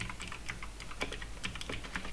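Code being typed on a computer keyboard while setting up middleware for a Node authentication site: quick, uneven key clicks in short bursts, close and fairly quiet, with no talking.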